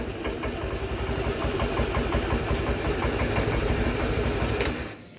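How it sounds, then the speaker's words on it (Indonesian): Close, steady idle of a Honda Vario 125 or 150 scooter running an open air filter, a rapid even mechanical chatter that holds for about five seconds and then cuts off abruptly, with no voices. "jadi suaranya agak ngok-ngok gitu. Ada open filternya"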